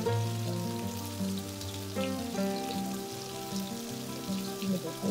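Mixed vegetables sizzle and fry on a hot tawa griddle, a steady close crackle under a continuous tonal background layer, with no talk in the clip.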